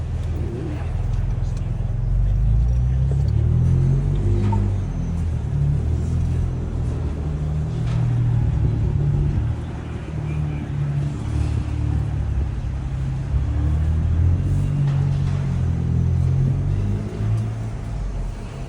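A 2024 Ford Ranger Raptor crawls off-road on Bronco Mountain in trail control with the rear diff lock engaged, its engine a steady low rumble heard from inside the cab, with faint voices in the background.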